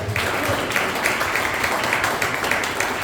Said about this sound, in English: Let's give a big round of applause for her.